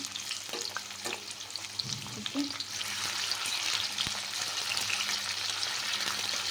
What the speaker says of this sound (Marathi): आता मी कांदा टोमॅटो भाजून घेते